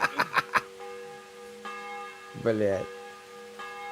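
Church bell in the medieval village of the video game Kingdom Come: Deliverance, a few quick resonant strikes at the start followed by lingering ringing tones, with someone briefly speaking over it.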